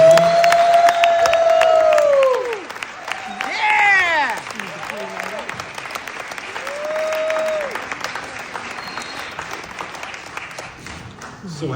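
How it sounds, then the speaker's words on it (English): Audience applause for filmmaker Ashley Dawson, a long, warm burst of clapping with cheers and whoops, loudest at first, then easing, then swelling again, under scattered shouting voices. "So if we can get another warm round of applause for Ashley Dawson."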